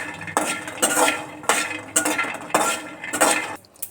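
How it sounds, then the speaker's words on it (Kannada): Peanuts roasting in a very hot pan for North Karnataka tomato chutney, heard as several rhythmic bursts of rattling and scraping as the nuts are tossed and stirred, loud and close. "ನೋಡಿ ಯಾವ ಥರ ಎಷ್ಟು ಬೇಗನೆ ಶೇಂಗಾ ಹುರಿತಾ ಇದ್ದಾವೆ"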